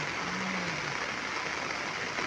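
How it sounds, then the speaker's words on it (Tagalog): Heavy rain pours down in a steady, dense hiss, unbroken and fairly close. "sobrang lakas ng ulan dito sa amin"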